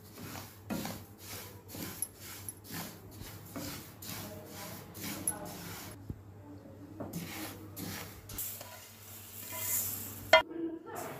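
Sesame seeds dry-roasting in a pan, stirred with repeated rhythmic scraping strokes over a soft, faint sizzle, close and fairly quiet throughout.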